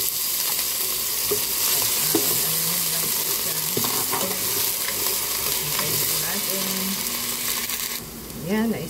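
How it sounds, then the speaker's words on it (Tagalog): Potatoes stir-fry in hot oil in a pan for a sauteed ground beef and potato dish, with a constant loud sizzle broken by repeated scraping stirs and clinks of the utensil. "na-stir fry na po natin ang ating potato"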